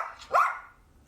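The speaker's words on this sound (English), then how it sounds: "that's my little puppy." Small puppy giving a single short, high bark, close and fairly soft, in an otherwise quiet room.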